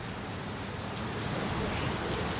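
Heavy rain pours down steadily at a petrol station, a dense continuous hiss filling the scene with no breaks.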